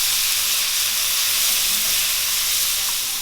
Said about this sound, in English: and you stir fry it